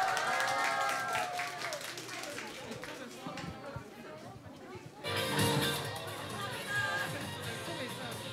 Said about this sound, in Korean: 아쉬운 만큼 더욱 큰 박수와 환호로 3부 공연을 맞이해주세요